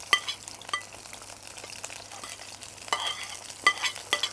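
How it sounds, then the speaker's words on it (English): Onions, tomatoes, green peppers and chillies frying in hot oil for a curry over high heat, a steady soft sizzle broken by several louder stirring scrapes near the end, close by with no talking. "So we put in the onions, the tomatoes, the green peppers and the chillies."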